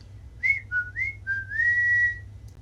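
A person whistles a loud, clear melodic phrase of several sliding, sustained notes ending in one long held tone, with no talking.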